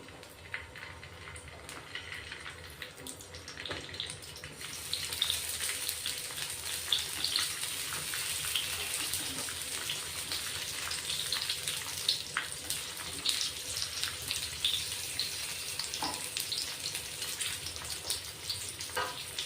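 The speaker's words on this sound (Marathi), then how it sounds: "गरम झालंय तेल, आपण मिरची ठेवून घेऊ आता" Stuffed green chillies frying in hot oil give a steady, close sizzle with crackling and spattering, which gets louder after the first few seconds and holds to the end.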